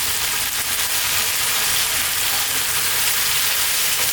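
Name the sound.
lamb siga tibs frying on high heat with tomato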